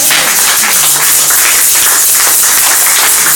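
A church congregation applauds and acclaims the Lord together, a dense, continuous wash of clapping and cheering voices filling the hall at steady loudness throughout.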